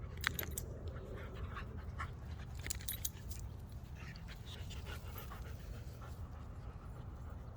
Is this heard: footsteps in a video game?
no